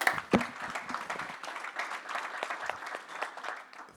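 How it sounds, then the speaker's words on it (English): An audience at a conference keynote breaks into applause, a dense steady patter of many hands clapping that holds level throughout, with a few louder claps near the start. "So please join me in a round of applause."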